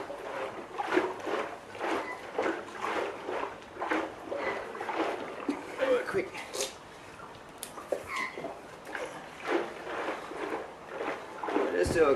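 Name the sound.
water sloshing around inside a new French oak barrel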